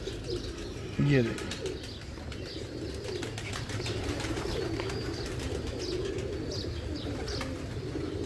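Batera pigeons coo in a steady low murmur through the whole stretch, with a brief louder burst of calls near the start and faint chirps above, while someone talks close by over the birds.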